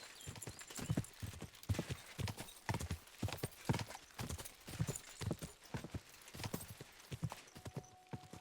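Steady clip-clop of horse hooves trotting in the video game Kingdom Come: Deliverance II, at a quick, even rhythm, close and fairly loud, with a brief whinny-like tone near the end.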